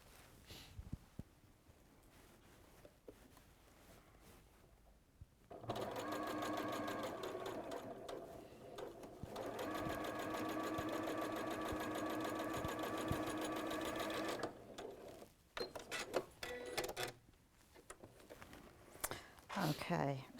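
A sewing machine stitches the side seams of a fabric bag, running in one long steady whirring burst of rapid needle clatter, framed by quieter handling noises and soft talk before and after.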